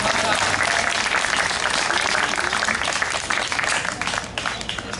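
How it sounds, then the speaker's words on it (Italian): An audience at an entertainment show breaks into loud, sustained applause, dense clapping that fills the room and tapers slightly toward the end. "Un applauso a Nicola."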